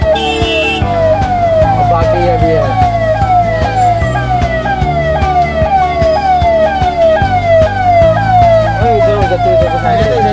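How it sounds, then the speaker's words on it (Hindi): An ambulance siren wails in rapid, repeated rising sweeps as it works its way through traffic, loud and close for the whole stretch, with a steady vehicle rumble underneath. "एम्बुलेंस फंसी है, लेकिन निकल रही है"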